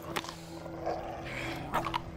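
A dog, Zeus, in the As Dusk Falls video game gives short, gruff growling barks, one early and a cluster near the end, fairly close over a humming dramatic background.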